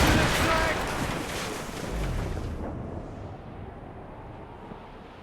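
Cannon broadsides boom from a sailing warship during a naval battle in Assassin's Creed Rogue, a loud rumbling blast over the first half that fades into quieter sea and wind ambience.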